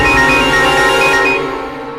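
A phone ringtone plays loudly and steadily for a couple of seconds, a repeating melodic tone over a busy background score that thins out toward the end.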